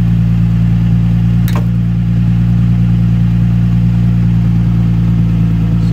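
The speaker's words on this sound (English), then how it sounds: "now that we have the vehicle idling" A car engine idles steadily while its disc brakes are being bled, giving a loud, close, unchanging low hum with one brief faint click partway through and no talking.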